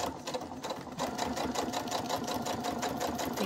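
A sewing machine runs steadily and close up, stitching a hands-free wallet in rapid, even pulses of needle and motor with no pauses.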